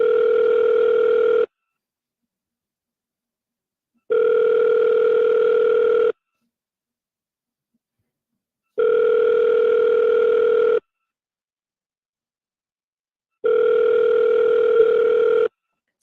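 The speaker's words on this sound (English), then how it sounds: "Tell me you guys hear the ringing." Telephone ringback tone on an outbound call to a business, heard as four evenly spaced two-second rings separated by silent gaps, clear and steady with no talk.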